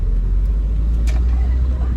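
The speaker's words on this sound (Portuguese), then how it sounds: "a gente está aqui num trânsito urbano" A Monza 500EF drives through urban traffic, its engine giving a steady, close, low rumble with no pauses across the short stretch.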